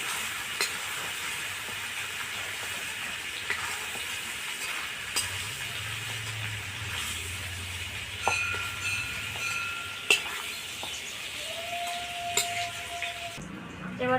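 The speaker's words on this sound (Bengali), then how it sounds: "চিংড়ি মাছ ভাজা হয়ে গেছে, চিংড়ি মাছগুলোকে তুলে নেব" Prawns frying in a pan, a faint, steady sizzling hiss with occasional light clinks and scraping sounds, and no voices.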